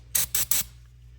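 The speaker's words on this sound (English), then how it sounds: "So you're just going to spray this directly on the terminal" DeoxIT D5S contact cleaner sprayed onto a battery terminal in three short, sharp hissing bursts, close and loud, with brief gaps between them.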